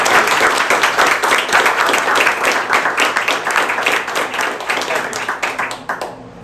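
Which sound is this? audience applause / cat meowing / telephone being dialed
audience applause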